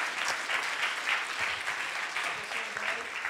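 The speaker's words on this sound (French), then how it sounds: "On les applaudit bien fort." Applause from the audience at a web developer conference quiz session in Toulouse, steady and fairly soft, continuous clapping from a crowd heard at a distance.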